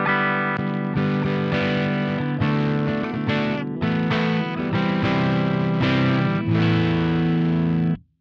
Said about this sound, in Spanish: vas a escuchar, pero con un sonido más gordo y con algo de rotura obviamente porque